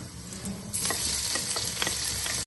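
Steady sizzling of ginger garlic paste and crushed green chillies frying in a pan with scraping stirs now and then, a soft continuous crackle close up.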